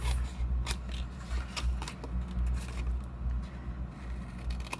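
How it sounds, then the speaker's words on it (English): Scissors snipping through cardstock or paper while a Stampin' Up! snowflake box is being made, with a series of short crisp cuts over a low steady background hum and no one speaking. "I will leave this one, and then I'll cut this one in half."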